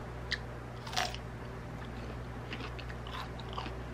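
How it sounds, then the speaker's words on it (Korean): A peach being bitten and chewed at close range, with a couple of soft crunchy bites followed by quiet wet chewing over a steady low background hum. "복숭아 먹을게요."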